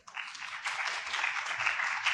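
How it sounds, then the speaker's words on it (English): Audience clapping at a university theatre festival's opening night, a steady wash of applause from a crowd that swells after a brief start and holds at moderate loudness throughout, with no voices over it. "So clap it up."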